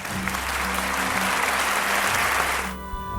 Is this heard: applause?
yes